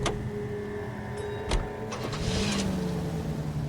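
A car starts up and drives off in a movie scene, with a few sharp clicks and thumps before an engine hum rises and holds steady, no talk.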